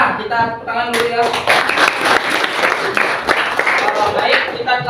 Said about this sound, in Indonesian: Ini anak-anak ya, kita tepuk tangan dulu ya.